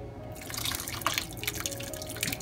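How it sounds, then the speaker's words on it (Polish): Whey from homemade cottage cheese strains into a kitchen sink, a steady close trickle with scattered drips and splashes running alone throughout. "A to już prosto do zlewu odcedzam."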